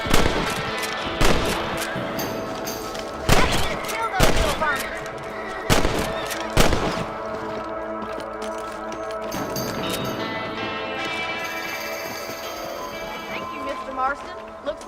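Rifle shots ring out while hunting rabbits in Red Dead Redemption on PC, several sharp loud cracks spaced a second or two apart, then quieter ambient game sound with a faint final shot.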